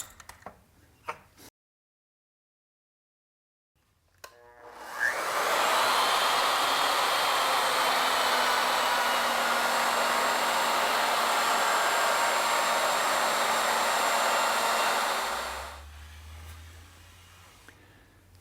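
A router bit cutting during ornamental milling gives a loud, steady, high-pitched roar that ramps up quickly and holds for about ten seconds, then winds down, following a brief thump and near silence.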